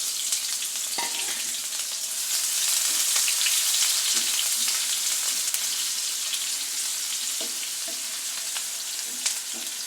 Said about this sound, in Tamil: இப்போ இன்னும் வெங்காயம் நல்லா வதங்கட்டும்